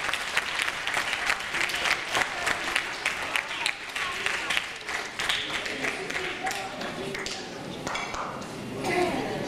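Crowd applause at a school last-bell ceremony for a ninth-grade class, with sharp individual claps standing out in a lively, uneven rhythm that thins slightly before swelling again.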